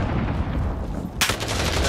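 Gunfire strikes the player in a World War II video game, a sharp burst of shots that cuts in suddenly near the end over steady low game rumble.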